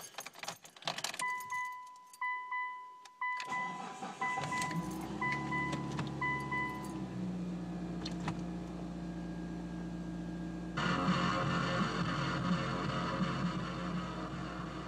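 Keys jangle before a car engine cranks and catches after work on its throttle position sensor, airflow sensor and air intake manifold. It settles into a steady, close idle that rises slightly toward the end.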